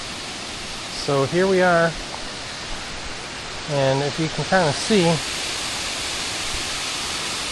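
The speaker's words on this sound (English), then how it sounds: "So I do hear the waterfall" A waterfall at Stony Brook State Park gives a steady, broadband rushing roar that fills the whole clip, with a person talking over it in two short bursts.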